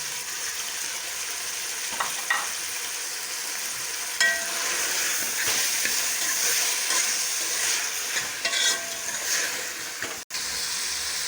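Tomatoes with green chilli and salt frying in a pan for a peas beef keema, a steady loud sizzle throughout with scattered scrapes and clinks of stirring, no voices.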